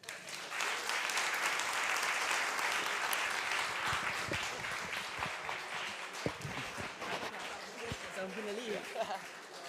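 A conference audience applauding after a Flutter talk, a full, steady round of many hands clapping that gradually thins out, with a voice speaking near the end.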